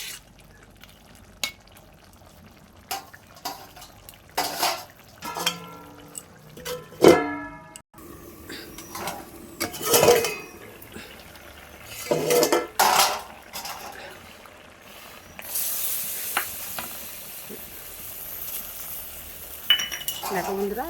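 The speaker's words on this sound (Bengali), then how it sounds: "দেখো এবার আমি মাছের মাথাগুলো দিয়ে দেবো, দিয়ে ভালো করে নেড়ে করে আবারও চাপা দিয়ে দেবো।" A spoon clanks and scrapes against a metal pot as fish heads are stirred into a red spinach and potato curry, with irregular clinks, a few louder knocks, and a lid-like rattle near the end amid quiet gaps.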